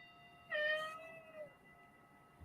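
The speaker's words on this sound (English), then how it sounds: "My kitty Leo is behind the monitor" A house cat behind a computer monitor lets out one clear, drawn-out meow close by in a quiet room, followed by faint background hiss.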